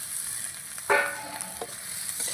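Pre-fried teasel gourds (kakrol) drop into spiced masala in a hot pan. A sudden sizzling burst rises over a quiet background frying hiss and then settles back, with no voices.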